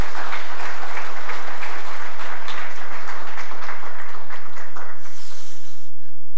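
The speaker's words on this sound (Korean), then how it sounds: "한번 박수로 환영하도록 하겠습니다" A crowd applauding continuously at a Korean church ordination ceremony, dense and loud, with many hands clapping together throughout.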